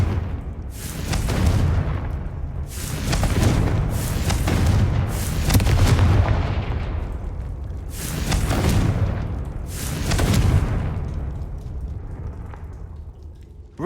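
Confringo fire spells explode in Hogwarts Legacy, a string of about six heavy booming blasts at an irregular pace, each one rumbling away before the next.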